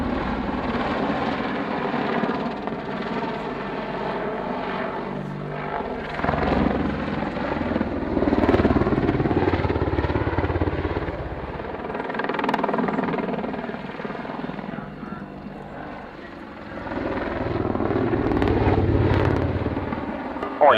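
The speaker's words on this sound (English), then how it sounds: "Let's get some aircraft going with a little bit of luck" Aircraft engines drone steadily in a flight simulator game, loud and close like a helicopter's rotor, swelling and easing over a long stretch with faint voices beneath.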